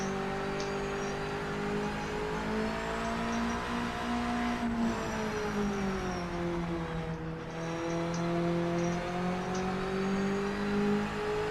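A race car engine in the racing game Project Motor Racing drones steadily at high revs, its pitch sagging and then climbing again as speed bleeds off and builds, loud and continuous with no talk.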